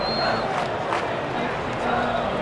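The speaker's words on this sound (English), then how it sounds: "the fans are still cheering" Stadium crowd cheering at a ballpark in the MLB 2K8 baseball video game, a steady continuous roar of fans filling the whole stretch with no clear peaks.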